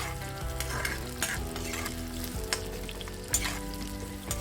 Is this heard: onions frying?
yes